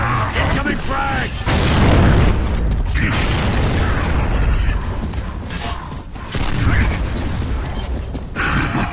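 A frag grenade goes off during a Gears of War 3 multiplayer match, a loud booming blast amid dense, continuous battle noise and mechanical clatter, with players talking over the action.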